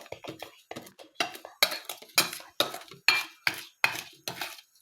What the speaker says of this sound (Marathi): आता हे चांगलं हलवून घेऊया.